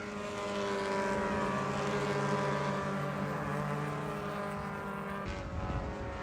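Race cars lapping the track at an SCCA Super Tour event at Hallett give a steady, droning engine roar with layered tones that shift near the end, carrying on continuously with no talk.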